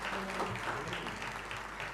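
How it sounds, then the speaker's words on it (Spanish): Applause from an audience at a university keynote lecture, steady dense clapping at moderate distance, fairly quiet and continuous for about two seconds, with some faint voices mixed in. "Este aplauso, entonces,"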